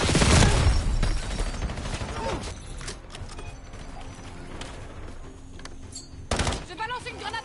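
Gunfire and explosions from the video game Black Ops 7 burst loudly at the start and again near the end, with scattered shots and game sounds in between under occasional talk.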